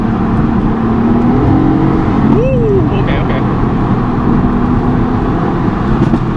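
A Mercedes AMG GT-C coupe's exhaust droning loudly and steadily from inside the cabin, with a rising rev and a single sharp pop near the middle, while a voice exclaims over it.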